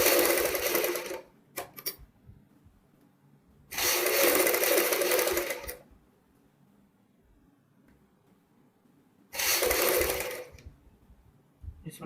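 A home sewing machine stitches lace around the neckline of a blouse in three close, rapid whirring bursts of one to two seconds each, separated by quiet pauses with faint handling sounds.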